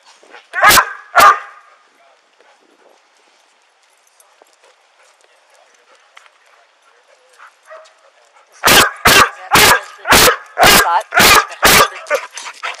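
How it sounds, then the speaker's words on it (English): A dog barks sharply twice, then after a quiet stretch lets out a rapid run of six or seven loud barks, close and excited. "it is kind of strange that the dog kind of goes a little crazy right there"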